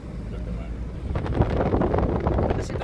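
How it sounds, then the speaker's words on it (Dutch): Strong wind buffets the microphone outdoors, a rough low rumble that swells louder after the first second and keeps gusting steadily to the end. "Er zit dan heel veel wind als ik dit ga doen."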